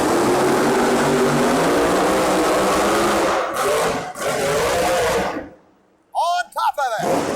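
A rear-engined Gravedigger monster truck roars loudly and continuously through a fast qualifying pass at an indoor event, then drops out briefly before a few short bursts return near the end.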